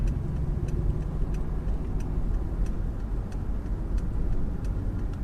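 A 2016 Mercedes-Benz S600 Maybach cruising, a steady low road and engine rumble filling the cabin, with a faint regular ticking like a turn signal over it and no talking.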